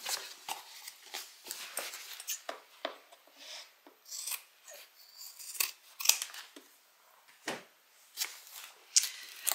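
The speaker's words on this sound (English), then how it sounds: "Cut back the seam allowance" Scissors snip repeatedly through a fabric seam allowance while sewing a beverage bag, giving a run of close, crisp, irregular cuts with short pauses between them and no talking.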